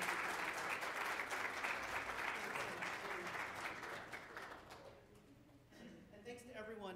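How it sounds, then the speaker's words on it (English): A round of audience applause at a climate innovation event, dense clapping filling the room for several seconds before thinning out, with a voice speaking over the fading end. "I hope everyone will treat you to one last round of applause."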